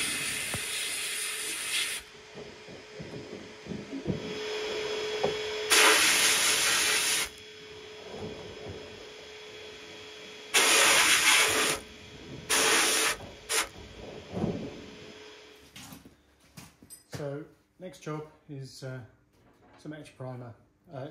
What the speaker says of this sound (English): I've put the items in the blasting cabinet and just sandblasting them for a minute